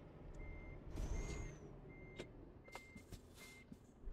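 Truck reversing in the Euro Truck Simulator 2 game, with a steady series of five or six evenly spaced reversing beeps over a low engine rumble, plus a brief air-brake hiss and a few clicks, no talking.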